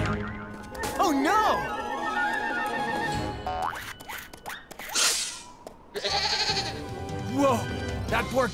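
A cartoon baby mountain goat bleats in wavering, high-pitched cries among playful cartoon sound effects and bursts of noise, with voices talking over parts of the scene.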